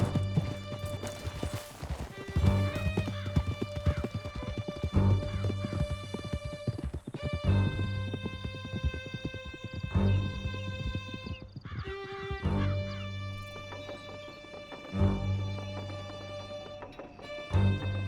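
Several horses gallop hard in the Red Dead Redemption 2 game, a loud, fast drumming of hooves with repeated neighs and whinnies riding over the pounding run, close and continuous throughout.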